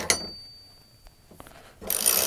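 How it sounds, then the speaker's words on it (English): A ratchet wrench tightening a shoulder bolt while assembling an Agri-Fab disc cultivator: a few sharp, scattered mechanical clicks, close and fairly quiet, followed by a brief burst of rough scraping noise. "That's why they call it a ratchet."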